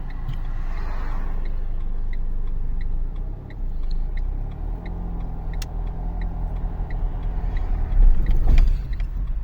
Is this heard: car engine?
yes